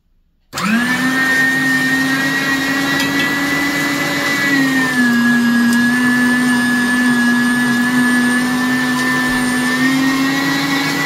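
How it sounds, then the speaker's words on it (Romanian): A meat grinder mincing meat at home for Romanian mici runs loud and steady, a constant motor whine that starts abruptly and holds a slightly shifting pitch throughout. "acum voi toca carnea"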